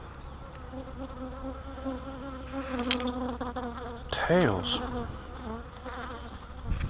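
Bees buzz around an opened beehive during a queen-cell split, a steady droning hum with one insect whining loudly past close by midway.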